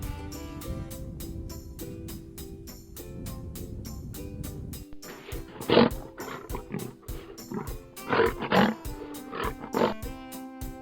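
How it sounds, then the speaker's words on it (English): A lion roars in several deep, loud bursts over background music, with some bursts close together and the overall sound sharp and forceful. "Lion."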